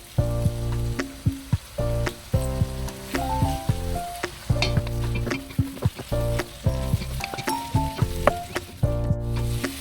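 Beef pares cooking in a frying pan as soy sauce is added, a loud close sizzle and crackle with rhythmic stirring scrapes throughout, no voices.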